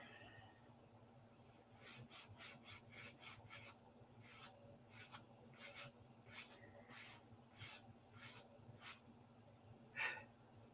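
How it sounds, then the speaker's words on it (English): Sandpaper rubbing a small model P-47 aircraft part into shape, a quiet run of short rasping strokes in uneven bursts over a low background hum, with one brief louder scrape near the end. "We got it close and then we're sanding it to shape."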